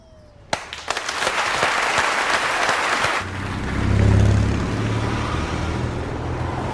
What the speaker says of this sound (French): tenons à vous applaudir tous pour votre diligence et votre courage